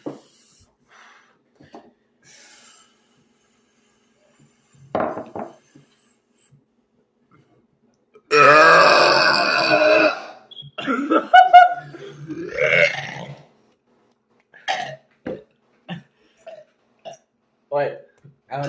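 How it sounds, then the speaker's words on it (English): Extreme, very loud burps burst out in a long raspy stretch with a few shorter belches and snorts after it, while voices are heard nearby. "I make weird fucking sounds while I'm burping."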